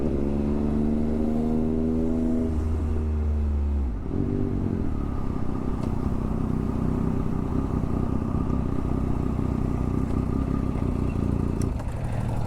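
A Triumph Speed Triple 1200 RS revs hard for several seconds with rising, snarling pitch. It drops back and settles into a loud, steady engine drone that continues to the end.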